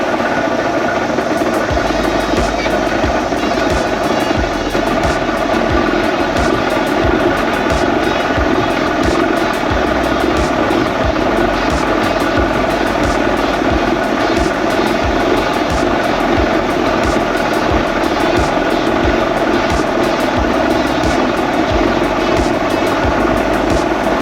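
An Evinrude 48 Special outboard motor on a Bass Tracker boat runs loud and steady at close range, a continuous buzzing drone throughout with no pauses.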